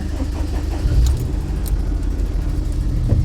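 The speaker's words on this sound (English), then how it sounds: "So let's get the Charade up and running." A classic Daihatsu Charade car engine runs at a low, uneven idle close by, with a few soft clunks and thumps over the steady rumble.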